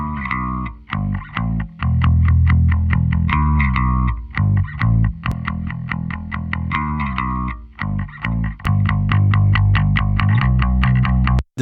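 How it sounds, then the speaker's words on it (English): Bass guitar in a dense rock mix, first heard dry and then thickened by the R-Bass plugin, driving steadily under distorted guitars and drums with regular rhythmic hits throughout. "let me bypass the R-Bass and listen to the bass"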